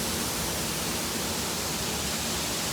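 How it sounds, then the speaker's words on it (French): Constant broadband roar of rushing water beside a waterfall during a camping trek near Mount Fuji, dense and steady like loud hiss, filling the whole clip with no talking. "Il y a un peu de bruit parce qu'on est au bord d'une chute d'eau."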